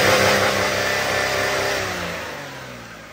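A Buick LeSabre's 3.8 V6 revs steadily and close up, a continuous mid-pitched engine drone that holds strong before easing off slightly toward the end, with no voices.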